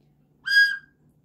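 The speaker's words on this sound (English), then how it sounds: "The mouthpiece is the only part of the recorder that actually makes sound." A single shrill, reedy tone from a recorder mouthpiece alone sounds once for about half a second, against near silence.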